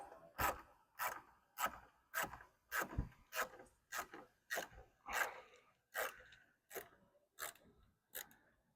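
Hand ratchet with a 7mm socket loosening a bolt while fitting LED side markers on a 2024 Mustang GT (S650), giving a steady series of about fourteen sharp ratcheting strokes, close and evenly spaced.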